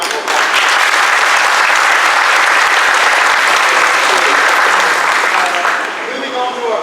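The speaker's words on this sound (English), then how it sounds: "Let's give them a round of applause." Loud, dense applause fills the room at a Rotary club meeting in Starkville as past district governors stand to be recognized. The clapping is continuous and close, holding steady before tapering slightly at the end.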